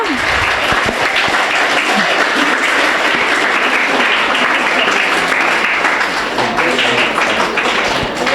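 Schoolchildren at a school function clap together, a loud, sustained and even burst of applause filling the room, with faint voices underneath.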